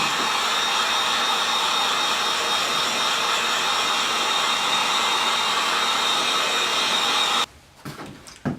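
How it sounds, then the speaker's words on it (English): A heat gun blasts a steady, loud hot-air roar while drying a screen print on a koozie, running continuously for about seven seconds before cutting off to a quiet room with a few small knocks. "So I'm just going to use the heat gun."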